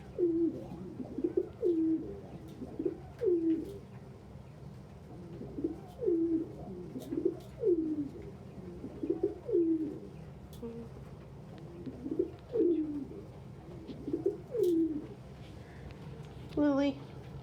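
Pigeons coo repeatedly in soft, rhythmic phrases at a moderate distance, the calls recurring every second or two in an indoor loft, with a person speaking quietly in the background.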